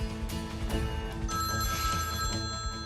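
A telephone rings steadily in the background of a Turkish TV drama scene, its bell tone clear and continuous across a few seconds with music or ambience underneath.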